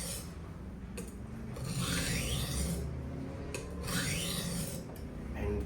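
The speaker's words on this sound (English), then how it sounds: "just sharpen until you get a burr" A knife blade is drawn repeatedly across a portable sharpening stone, producing steady rasping strokes in a slow back-and-forth rhythm, close and fairly loud with no talking.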